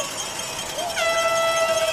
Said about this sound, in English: A lot of noise down below us here from the home fans with the cowbells and the air horns and sirens.